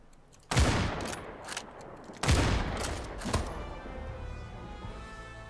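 Gunfire in a competitive shooter video game: two loud bursts of rapid shots, each tailing off into reverb, followed by a fainter shot and then lingering background noise.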